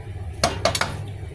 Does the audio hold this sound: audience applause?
no